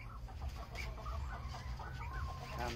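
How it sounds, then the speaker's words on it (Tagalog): Laying hens cluck softly and repeatedly in the background, a few overlapping calls amid low farmyard noise. "Dito naman tayo sa ating paitlogang manok"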